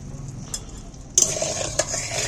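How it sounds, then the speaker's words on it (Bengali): Hot oil in a wok stirred before fish goes in: quiet at first, then a sudden close clatter of metal on metal, with a couple of sharper scrapes over a light hiss. "এবার আমি তেলটা ফালি গরম হয়ে গেছে তেলটাকে একটু নেড়ে নিই"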